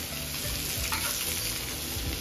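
Salted bhagar (barnyard millet) is stirred up and down in a hot pan, producing a loud, constant sizzling hiss with a rough, scraping texture underneath.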